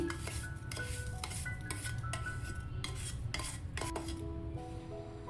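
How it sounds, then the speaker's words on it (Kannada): Roasted semolina being tipped from a pan into a bowl in a home kitchen, with a steady run of scraping, rubbing and clinking of a spoon against metal and dishes, close and continuous with no talk. "ಈ ಥರ ಬೌಲ್ಗೆ ಹಾಕ್ಕೊಳ್ತಾ ಇದ್ದೀನಿ"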